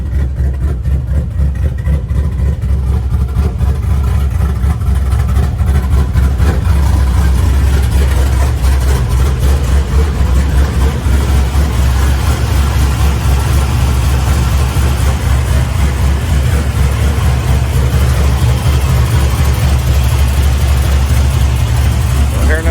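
A car engine with an aftermarket exhaust idles steadily with a low, rumbling exhaust drone that holds constant throughout, close and fairly loud.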